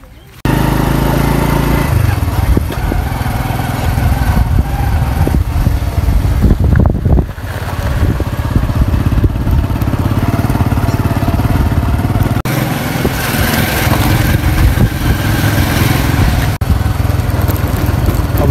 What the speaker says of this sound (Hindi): इधर बाइक खड़ा है।